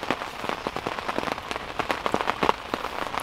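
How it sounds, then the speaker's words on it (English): Steady rain pattering on a surface at a carp fishing pool, dense irregular drops close by, continuous and moderately loud with no talking. "It's not so bad right now, but I think it's safe to say we're going to be packing away in the rain"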